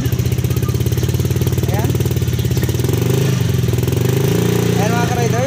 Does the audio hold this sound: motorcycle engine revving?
yes